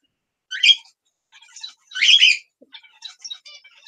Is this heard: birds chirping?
yes